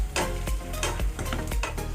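Garlic toasts in hot oil for a Chinese-style steamed tilapia, giving a close, steady sizzle broken by rhythmic scraping stirs of a utensil against the pan.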